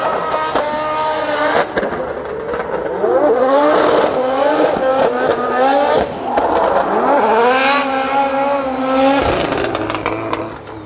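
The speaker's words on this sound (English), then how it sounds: "That's one angry sounding engine." A Volkswagen-engined drift car at Drift Masters practice in Finland revs hard and repeatedly, engine pitch sweeping up and down through continuous loud runs with brief dips between blips.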